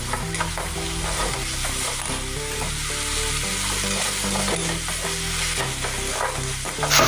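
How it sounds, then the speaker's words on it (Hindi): Ginger and garlic sizzle loudly in hot oil in a pan as tomato-chili paste and curry leaves go in, with a steady close frying hiss and some stirring and no talking. "अभी मैंने टमाटर और मिर्ची इसमें पिसा है कटर में, वो इसमें डाल देंगे। कड़ी पत्ता है वो भी इसमें थोड़ा सा डाल देंगे।"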